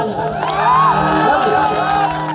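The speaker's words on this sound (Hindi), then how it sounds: "मैं चाहता हूँ कि इसके लिए एक जोरदार और ताली" Dense crowd cheering and whooping at a live Bhojpuri stage show with Khesari and Dimple, a steady loud roar with shouts and whistles rising over faint clapping, filling the space without a break.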